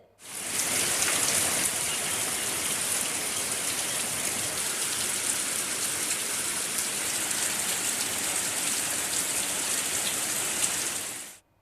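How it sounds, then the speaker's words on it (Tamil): Heavy rain pours in Pattukkottai, Thanjavur district, during a thunderstorm, a dense, unbroken hiss and patter of downpour on surfaces that runs loud and steady throughout, with no distinct thunderclap standing out. "தஞ்சை மாவட்டம் பட்டுக்கோட்டையில் இடி மின்னலுடன் 2வது நாளாக இன்று கனமழை பெய்தது."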